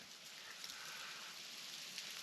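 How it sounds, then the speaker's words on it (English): Light rain sprinkling on a surface at an outdoor post-frame building site, a faint, steady crackling patter with no voices. "That's rain."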